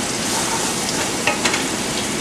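Chopped garlic frying in hot oil in a pan, a continuous dense sizzle with a couple of brief spatters, close and alone with no voices.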